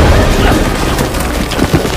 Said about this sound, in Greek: ξεκίνησε πάλι τις εκρήξεις του ηφαίστειου.